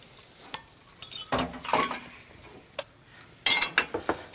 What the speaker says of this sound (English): I'm sauteing some spinach right now.